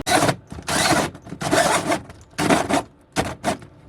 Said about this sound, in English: Now we need to cut through the actual floor.